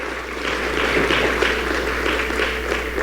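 An audience at a homelessness summit applauds, a dense, steady round of clapping from a large crowd that holds at full strength for about three seconds without any talk over it.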